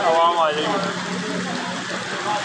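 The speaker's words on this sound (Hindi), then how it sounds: "आकाशा बारिश हो रही है, आपका क्या राय है यार?" Steady rain hisses outdoors as a continuous broadband wash, while people talk close by over it.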